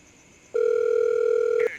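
Telephone dial tone before a call: a single steady electronic tone sounds close and clear for just over a second, then cuts off, with no voices.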